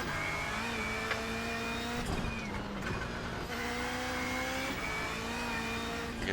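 A Subaru rally car engine at Mt Washington in a video game, revving with steady rising and falling tones that cut and climb again through gear changes, played fairly quietly.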